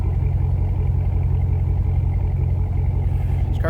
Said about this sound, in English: Nice little throaty rumble out of that.